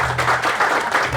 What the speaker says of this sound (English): Give a round of applause there for Brona, please.